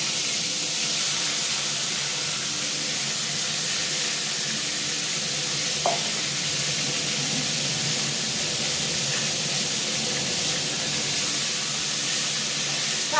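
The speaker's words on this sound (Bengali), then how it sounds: "চলো তেলটা গরম হয়ে গেছে, দিয়ে দিলাম।" Big pieces of katla fish fry in hot oil with a loud, steady broadband sizzle and hiss that fills the whole stretch, with one brief sharp clink near the middle and no talking.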